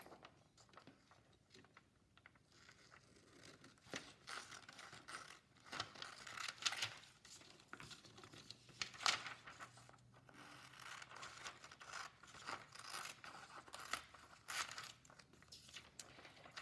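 Paper being cut by hand with scissors for a junk journal: quiet, irregular snips and crinkles come in short bursts across the stretch, close by, with no talking.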